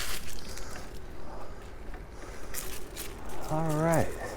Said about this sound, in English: Crunchy leaves time.